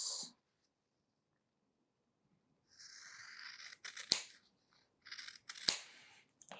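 Scissors snip fabric for a quilt block while sewing, giving two clear, sharp clicks between bursts of rustling handling, with a quiet pause early on.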